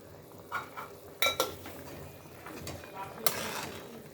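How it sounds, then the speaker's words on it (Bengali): Utensil stirring and scraping a sauce mixed with vinegar in a pan, a few sharp clinks and scrapes over a faint sizzle, moderately close and fairly quiet. "তারপর এটাকে ভালো করে মেশাবো"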